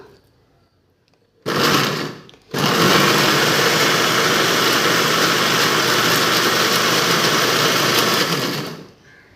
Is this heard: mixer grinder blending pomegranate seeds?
yes